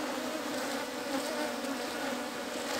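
Apis honeybees buzz in a steady, dense drone around a hive being smoked, a continuous close swarm hum with no voices.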